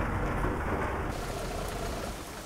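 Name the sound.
rain falling on a bus during a convoy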